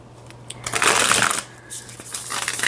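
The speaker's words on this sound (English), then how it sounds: "And let me just show you how it shuffles" A tarot deck is riffle shuffled up close, with a fast rippling flutter of cards followed by a second burst after a short pause. A faint steady hum sits underneath.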